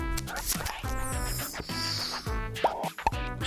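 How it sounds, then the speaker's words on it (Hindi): Repeated wet bubble gum popping plops, cartoonish and close, bursting in a bouncy series over a busy background of music-like sounds. "ये बबल गम की आवाज है।"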